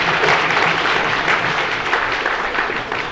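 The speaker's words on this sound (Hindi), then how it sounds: "जोरदार तालियां।" Loud, sustained applause from an audience at a bait baazi poetry contest at an educational conference in Aurangabad, a dense steady wash of clapping filling the whole stretch without pause.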